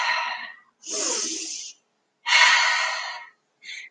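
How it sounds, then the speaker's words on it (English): Deep breaths in and out during a yoga forearm plank, several long hissing inhales and exhales in a steady rhythm with short pauses between, close and fairly loud. "Big breath in. Big breath out."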